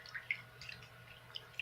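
Water trickles and drips into a bathtub with the drain plug closed, a faint, uneven patter of small splashes with no voices over it.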